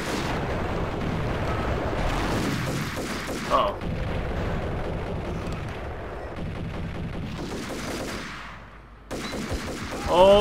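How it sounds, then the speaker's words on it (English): Explosions and heavy gunfire from a firefight in the Max Payne video game rumble and crack across the scene, with one sharper blast near the end, under a person talking over the action. "Oh, it throws a grenade."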